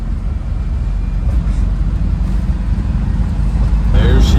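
A 1961 Volkswagen Westfalia camper bus driving on a mountain road, its engine and road noise a steady loud low rumble throughout with no break.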